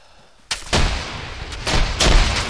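Grenade blasts and gunfire during an Arma 3 infantry training exercise: a sharp bang at about half a second, then heavy rumbling reports and a second loud burst near the end, fairly close and with no talking.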